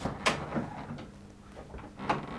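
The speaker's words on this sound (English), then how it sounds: "I'm gonna open the door." An interior door is opened during a nighttime paranormal investigation in a house: a couple of faint, short knocks and scrapes of the latch and hinge, fairly close but quiet, with no talk over them.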